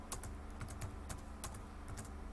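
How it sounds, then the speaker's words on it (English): Rapid keystrokes on a computer keyboard, a steady run of close, crisp clicks with uneven rhythm over a low background hum. "just keep typing in something"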